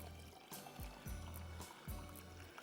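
Water mixed with tamarind pulp and spices for gol gappay is poured and strained, a quiet trickling stream with soft splashes and a few low thuds, and no voices.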